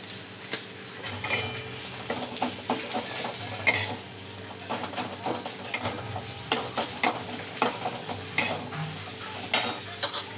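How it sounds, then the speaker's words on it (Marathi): Ground peanut masala with a pinch of turmeric is stirred in a hot sizzling pan, a spoon scraping and clinking steadily against the metal over a constant frying hiss, with no talking. "आपण असं छान मस्त मिक्स करून घेऊ"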